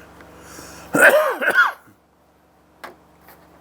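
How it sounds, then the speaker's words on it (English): A single harsh cough from someone with a cold, loud and close, followed by a quiet breath and a faint click. "Anybody else out there developed that cough and with that cold that came in this year?"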